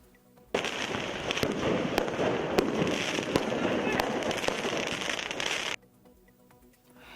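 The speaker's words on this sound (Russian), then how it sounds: "По этому поводу участники акции устроили фейерверки в центре города." Fireworks go off in central Beirut during a street celebration, a dense, continuous crackle studded with sharp bangs for about five seconds before cutting off abruptly, loud and close.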